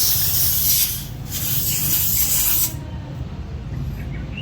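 An air compressor hose connector is screwed onto a tire valve, giving a loud, steady rushing hiss of escaping air with rubbing contact that drops in level partway through.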